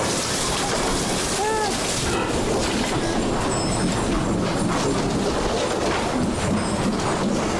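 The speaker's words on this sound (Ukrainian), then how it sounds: "Там кран якраз над коритом набирає." Water pours steadily from a tap into a bucket above a pig trough on a farm, a dense continuous rushing hiss filling the whole stretch at close range.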